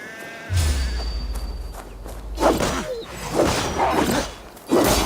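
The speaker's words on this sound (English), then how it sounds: "That sounds like a sheep." A sheep bleats in the video game Assassin's Creed Valhalla, with a few short bleats in the second half over a steady low rumble and whooshing game ambience.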